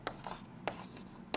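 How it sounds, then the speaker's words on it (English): Pen or marker strokes during a physics lecture, three short scratchy bursts spaced in a loose rhythm, close and faint over a quiet room. "I am writing down here"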